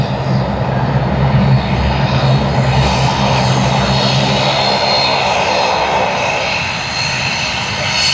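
A Dash 8 turboprop taxis at Sydney Airport, a steady loud engine drone and propeller rumble that holds throughout, close by, with no talk.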